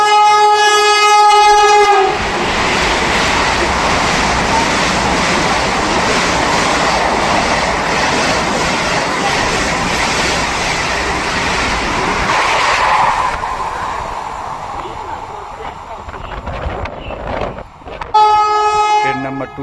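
The Howrah Patna Vande Bharat Express roars at speed through a station, close and loud for most of the passage with rushing wheels and rail clatter. Its horn blares both as the train approaches and again at the end.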